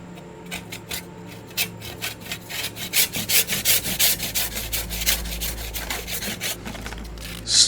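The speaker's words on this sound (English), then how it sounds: "I'm going to give it a try with the other saw" A hand saw cuts through a block of crystal-clear ice, rasping in steady repeated strokes that grow louder and denser midway, up close with no talk.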